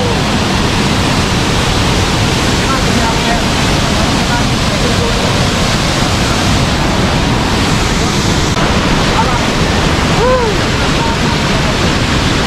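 Waterfall at Hulugan Falls in Luisiana, Laguna roars as a steady, dense rush of water that fills the whole clip, with faint voices mixed in.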